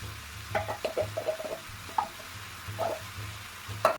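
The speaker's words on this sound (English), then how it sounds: "To this, add your mushrooms and cook it down" Mushrooms and sweet corn with carrots frying in a pan, soft crackling sizzle with scattered light stirring clinks and scrapes, close and continuous.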